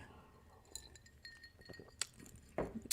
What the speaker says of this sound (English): I'm just chewing my ice cubes here